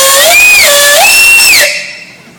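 At a steam engine show, a double simple steam traction engine's whistle sounds one loud blast of over a second, its pitch dipping and rising as the valve is worked before it fades out.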